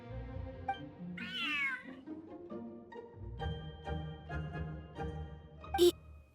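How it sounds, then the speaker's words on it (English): A cat in the video game Genshin Impact meows clearly: one rising, wavering meow near the start, then softer repeated calls over a steady tonal game soundtrack, ending with a sharp bright chime. "Whoa, this cat is way bigger than the others."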